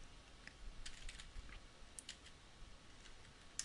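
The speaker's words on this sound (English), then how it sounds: "So I'm just going to type in a title here." Light, irregular key clicks from typing an event title on a computer keyboard, a quick run of soft taps with short pauses, fairly faint and close, with no talking.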